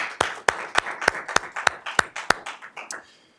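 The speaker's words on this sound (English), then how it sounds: "can we give a round of applause for everyone who's serving commitment?" A round of applause at a school board of education meeting, heard as about ten slow, evenly spaced sharp claps, close and fairly loud, fading out at the end.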